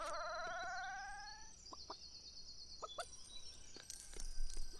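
Chicken clucking in the Lego City Undercover video game, a few short clucks and chirps near the start, then scattered game effects and faint clicks, with no talk.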